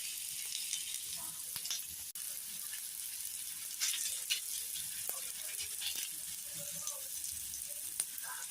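Food roasts and sizzles in a pan with a soft, constant crackle and occasional sharper pops and ticks, quiet and fairly even with no talk.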